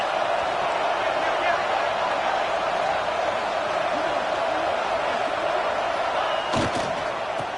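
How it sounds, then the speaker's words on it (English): Football stadium crowd roaring steadily through a fourth-down play in a college game, a dense, loud wash of noise that stays even throughout, with a brief sharp bang near the end. "This crowd bringing serious noise on this huge, huge fourth down play."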